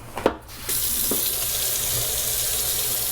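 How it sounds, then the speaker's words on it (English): Tap water runs steadily into a sink for hand washing, a continuous close splashing rush that starts after a brief clatter and carries on alone to the end. "over to the sink, we're gonna wash our hands"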